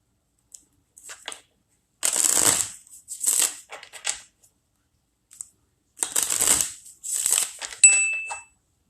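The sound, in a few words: shuffling tarot cards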